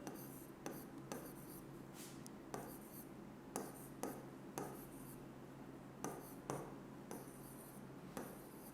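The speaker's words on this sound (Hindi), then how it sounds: "तो चलो कोई एक नंबर लिख देते हैं हम यहाँ पर।" A pen or marker writes out a number on a surface during a maths lesson, giving soft scratchy strokes in short bursts with pauses between them, faint and close, and no talking.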